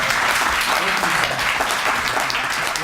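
Audience applause at an interfaith forum: steady, dense clapping from a sizeable crowd filling the room throughout, loud and close.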